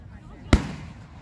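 A single sharp July 4th firework explodes at Great Falls park: one loud, near bang with a brief rumbling tail, over a faint outdoor murmur.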